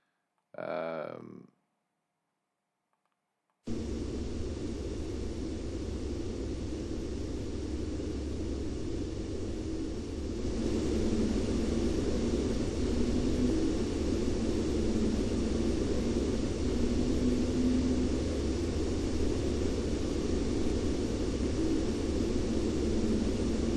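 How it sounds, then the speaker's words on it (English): A steady, low engine drone holds at a distance, faint and continuous, with a brief vocal sound at the very start before a pause. "I think I know what that is now. I think that's a motorcycle."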